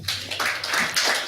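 An audience claps at a talk on AI in software development, a short burst of steady, fairly loud hand claps filling the room.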